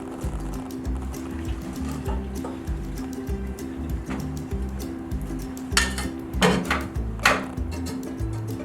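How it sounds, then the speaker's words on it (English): Macaroni noodles are drained through a strainer over a continuous machine-like hum, with metallic clinks and splashy bursts of water near the end. "I'm gonna take a hot pad and my strainer and then just strain it."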